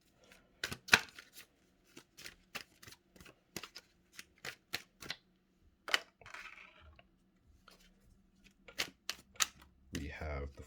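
Tarot cards are drawn and laid down during a reading, making a series of sharp, close card snaps and flicks spaced irregularly across a quiet background, with a brief shuffle-like rustle near the end.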